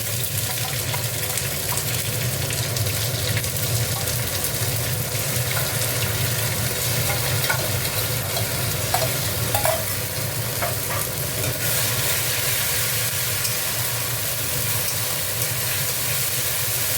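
Ginger garlic paste with green and dried chillies frying in a pan, a steady close sizzle with occasional stirring scrapes and light clinks throughout, no talking.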